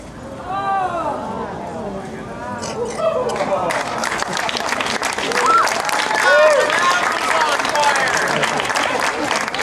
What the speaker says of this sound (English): Notice that most of you all did applaud, but some of you didn't.